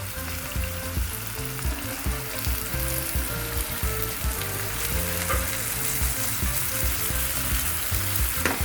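Brinjal pieces fry in hot oil in a pan, a strong continuous sizzle and crackle with low clattering from stirring running throughout.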